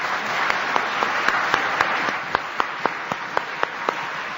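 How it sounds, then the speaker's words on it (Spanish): Audience applause during a live radio broadcast from Ponferrada, a steady wash of crowd clapping with a few sharper, closer individual claps standing out in an even rhythm near the end. "Un aplauso, por favor."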